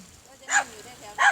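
Two short, sharp barks from a dog, about a second apart, close by, with quiet room noise between them.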